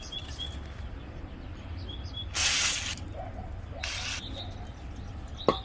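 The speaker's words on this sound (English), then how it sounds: "I just spray it off a little bit" Short bursts of aerosol cleaner sprayed onto a 2-stroke carburetor part: two distinct hissing spurts, the first longer, over quiet workshop background, followed by a small sharp click.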